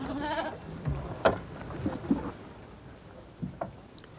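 Goats kept for meat by a farming family on the edge of the Taklamakan Desert bleat several times, short wavering calls spaced out at moderate distance over a quiet outdoor background.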